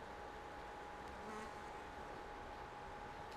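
Bees hum by beehives near a sunflower field in Farming Simulator 22, a steady, quiet insect drone that carries on evenly throughout with no talking.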